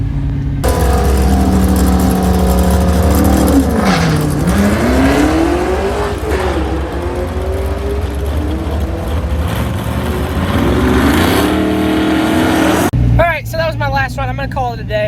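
An LSA-swapped IROC-Z Camaro on a drag racing run, its V8 roaring loud and close as it revs up through the gears with shifts and a brief lift, then drops away suddenly near the end.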